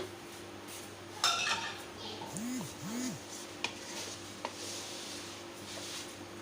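Leftover tomato puree stirred into a cooking pan, with faint scraping and a few light metallic clinks of a spoon against the pan over a steady background hum.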